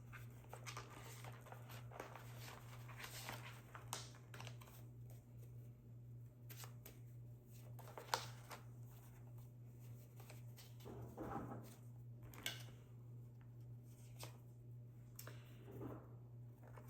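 Quiet, close rustling and light flicking as state flash cards from a map-of-America learning set are handled and shuffled, a string of soft papery taps over a low steady hum.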